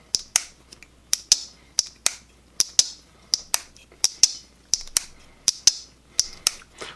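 A Jack Wolf Venom Jack slip joint knife is flicked open and snapped shut again and again, sharp crisp clicks arriving in quick pairs at a steady rhythm, close up and with no talk.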